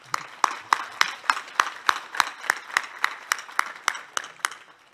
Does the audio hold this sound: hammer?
no